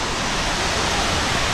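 Steady, loud roar of a waterfall along an Oregon hiking trail, a dense broadband wash of falling water that holds constant for the whole stretch with no talking over it.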